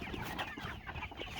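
Cornish meat chickens in a pasture flock clucking steadily and close by, a continuous busy chatter of several birds with no voices over it.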